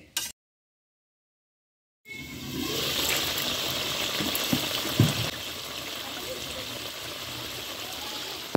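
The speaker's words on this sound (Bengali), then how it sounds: "এবার আমি ঢাকনা চাপা দিয়ে 2 মিনিট একটু জাল দিয়ে নেব" Jackfruit and prawn kofta curry simmering in a covered pot: a brief knock, a pause of silence, then a steady, bubbling hiss that carries on with one or two soft clicks.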